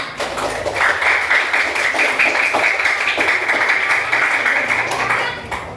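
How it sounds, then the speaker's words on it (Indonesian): An Indonesian school class claps hands together after a group discussion, filling the room with a steady, dense patter of many close-range claps for several seconds. Faint voices of children mix in beneath. "Kita tepuk tangan semuanya."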